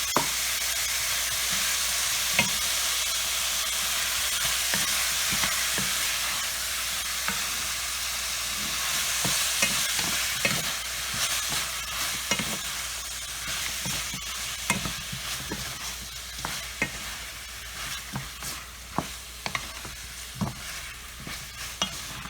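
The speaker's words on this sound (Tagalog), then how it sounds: "Okay, we go ahead add our pork ribs" Pork ribs fry with tomato in a pan for a Filipino mung bean stew, a steady loud sizzle running throughout while a utensil scrapes and stirs with sharp clicks, and no one speaks.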